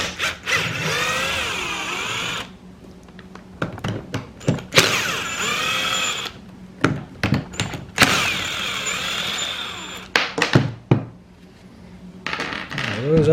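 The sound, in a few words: T27 Torx screws being removed and set down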